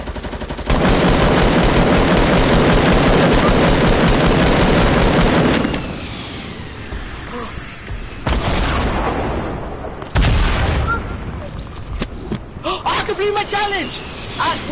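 Sticky bombs and heavy gunfire erupt in a shooter video game, a dense loud barrage for several seconds followed by scattered bursts and blasts, with a player talking and gasping over the action.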